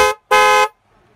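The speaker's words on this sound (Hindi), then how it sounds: "तो हॉर्न सुनो पहले" A car horn, an accessory on sale at a car accessories shop, sounds two loud toots alone: a short blast, a brief gap, then a longer one, followed by quiet.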